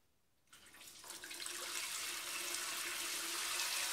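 Water from a single-handle shower head sprays into a bucket, starting abruptly and building to a steady, close, hissing rush that continues to the end.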